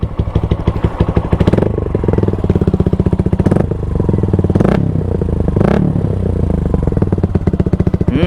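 Motorcycle fitted with an Akrapovic exhaust, its silencer removed and a DB killer installed, rumbles loud and close at a steady idle, with a few throttle blips and bursts standing out over the continuous engine drone.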